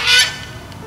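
A single loud goose honk, brief and close, fading quickly.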